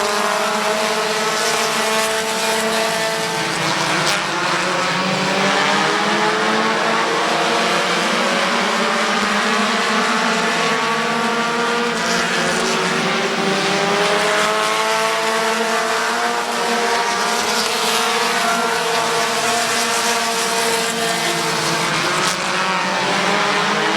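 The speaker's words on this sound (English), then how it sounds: "here comes DR3 all over the back of Justin Renneker for the race lead" Stock cars race at Midvale Speedway, a dense, loud, continuous roar of several engines whose pitches rise and fall as the pack passes close by throughout.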